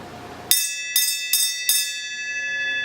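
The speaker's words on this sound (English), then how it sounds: "Can you ring the bell?" A bell in a metal shop rings four times in quick, evenly spaced strikes, each clear and bright, with a ringing tail fading over a steady background hum.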